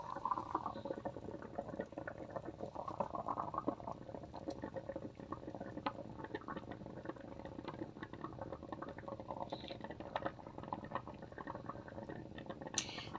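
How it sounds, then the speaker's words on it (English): A coffee percolator bubbles as hot water rises up through the grounds, a soft, continuous gurgling and popping that stays faint and close for several seconds with no talk. "And all the water is coming up from the bottom. It's coming up through the coffee, and then it's coming up through the top."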